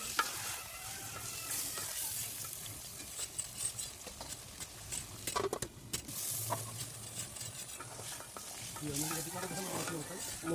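Village-style chicken curry fries in a pan while being stirred, a continuous hissing sizzle broken by scraping and clattering of a spoon against the pan, close and fairly loud with no clear talk.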